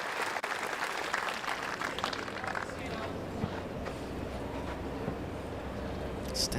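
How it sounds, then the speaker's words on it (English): Applause ripples around the crowd at a WTA grass-court tennis tournament in Nottingham, moderate and somewhat distant, with a commentator talking over it. "Vekic's coach leading the applause."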